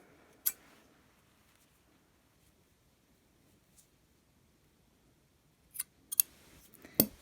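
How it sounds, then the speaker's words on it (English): Scissors snip crochet yarn while a snowflake is being finished, a few sharp, close clicks scattered across a very quiet background, one early and a quick cluster near the end. "And now I'm going to cut it and give it a little pull"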